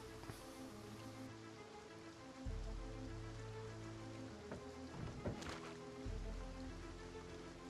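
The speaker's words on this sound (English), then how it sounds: "This is a proper torrential downpour" Torrential rain in the survival video game Project Zomboid, a dense continuous downpour pattering on surfaces with a low rumbling undertone and a few sharper splashes, steady and loud with no speech.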